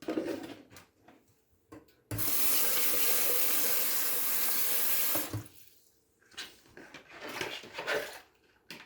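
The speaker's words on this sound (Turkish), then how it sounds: "Üzerine su çıkana kadar yavaş yavaş suyunu ekleyeceğim." Water pours steadily from a tap or jug into a jar of vegetables being pickled, a loud continuous splashing rush for about three seconds, bracketed by quieter clinks and kitchen handling sounds.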